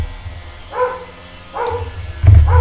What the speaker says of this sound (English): If only this dog would stop.